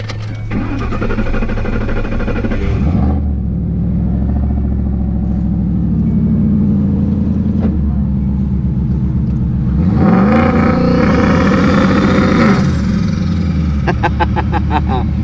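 A turbocharged Coyote-engine Ford Mustang S197 with a built TH400 transmission and two-step revs hard in loud bursts, dropping to a rumbling idle between, close by with a voice briefly heard.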